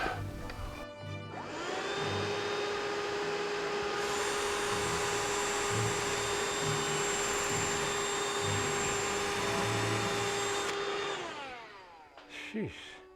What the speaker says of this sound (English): Get the vacuum.